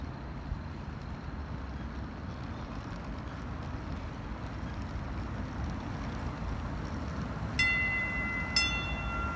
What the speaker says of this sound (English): Don't look now, but the trolley's coming.